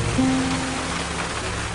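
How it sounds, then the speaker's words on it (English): Heavy rain pours steadily outdoors, a dense, even hiss of water hitting surfaces with no voices over it. "Should we get out of the rain, guys?"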